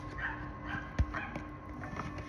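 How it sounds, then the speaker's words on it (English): A small dog barks in short bursts, with a sharp yap about a second in and softer barks scattered around it against a steady background hum. "That dog is really irritating."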